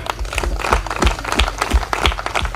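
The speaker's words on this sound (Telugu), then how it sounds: "నమ్మిన వాళ్ళు చప్పట్లు కొట్టండి." A church congregation claps together in a lively, rhythmic burst of many hands, loud and close, with a few voices faintly mixed in.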